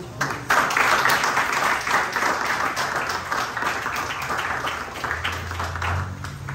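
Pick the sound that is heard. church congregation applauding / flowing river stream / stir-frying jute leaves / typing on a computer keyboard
church congregation applauding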